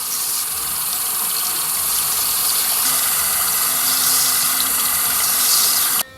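An OGUARD sonic electric toothbrush runs under a tap during a waterproof test, its faint steady hum buried beneath loud, continuous running faucet water for about six seconds, stopping abruptly at the end.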